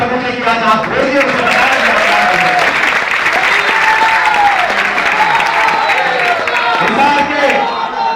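A large crowd at a political rally in Kanpur breaks into loud, sustained applause, mixed with shouting and cheering voices and staying at full strength from start to finish.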